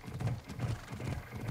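Horse hooves clip-clop at a steady riding pace in Assassin's Creed Odyssey, a quick rhythmic patter of soft thuds, moderately close and continuous through the short stretch.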